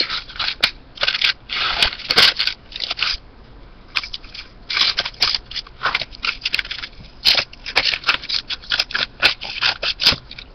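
Scissors snipping through paper while cutting out a small handmade notebook, a close run of crisp, irregular crunching cuts in quick bursts with short pauses.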